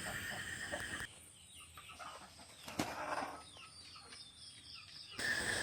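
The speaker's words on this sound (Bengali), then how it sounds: "এই যে মুরগা যে এরপরে আর একটা মুরগি আছে" Rooster and hens in a village yard in Assam give short clucks and calls over a steady rural background, fairly close, with no talking.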